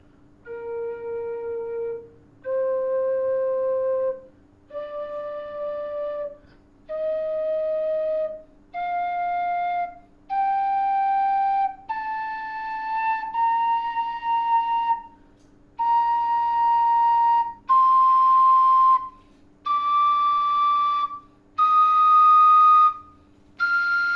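A Thai khlui bamboo flute plays a rising series of sustained single long tones, each held for about a second and separated by short breaths, clear and close.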